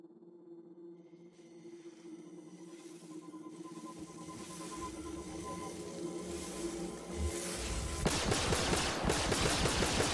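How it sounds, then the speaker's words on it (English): Rapid automatic gunfire in Star Citizen, aimed at a robot, builds from a faint hum into a fast, loud rattling burst over the last couple of seconds, layered over a droning sci-fi game background. "I tried to shoot one of those robots."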